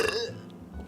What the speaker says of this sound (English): and burp a little